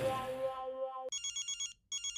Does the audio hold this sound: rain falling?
no